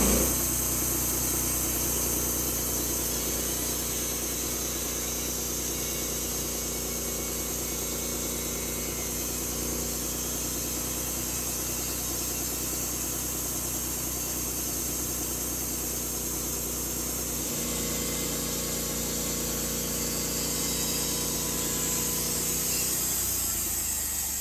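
An engine-driven mill cuts a log, including a crotch section of a dead tree, into 3-inch-thick slabs. The engine holds a steady, loud drone throughout, with the tone shifting partway through as the cut changes.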